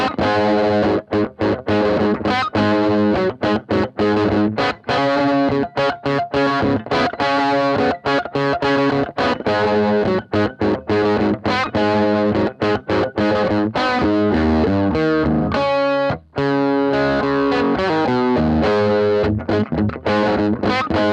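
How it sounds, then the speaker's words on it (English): Electric guitar plugged straight into a Supro Delta King 8 tube amp with every control maxed and the boost off, played with a humbucker bridge pickup. The playing is loud, dense and distorted, with sustained riffing and brief gaps between phrases. "That again was the guitar straight into the amp, this time with all the controls maxed and the boost turned off."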